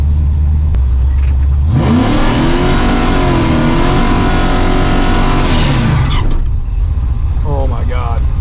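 A drag race car launches off the trans brake, its engine revving hard in a loud, rising and holding roar for several seconds before cutting off, with a voice talking over it.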